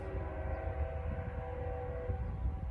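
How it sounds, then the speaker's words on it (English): A train rumbles steadily nearby outside a warehouse, a continuous low mechanical drone with faint tonal hum, no voices over it. "And there's a train."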